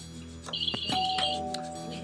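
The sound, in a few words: quiz contest bell ringing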